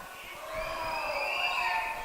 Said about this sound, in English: What a night for Isaiah Mendoza as he heads to the bench and gets a round of applause from the Bearcat faithful here tonight